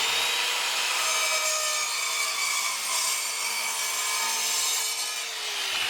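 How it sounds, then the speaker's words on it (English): Hand sawing of wooden pieces for a small desktop catapult base, uprights and firing arm, a steady close rasping back-and-forth stroke running continuously throughout with no talk. "First thing, cut out the base, cut out the uprights, and cut out the firing arm."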